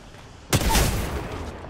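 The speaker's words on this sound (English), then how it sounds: "Oh, the grenade got me" One sudden in-game grenade explosion in Apex Legends, a sharp close burst that rolls into a sustained rumbling tail lasting about a second.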